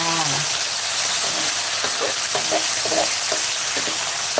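Mackerel stir-fried with basil leaves in a hot pan, a steady sizzling fry throughout with scattered clinks and scrapes of stirring, close and fairly loud, with no talking.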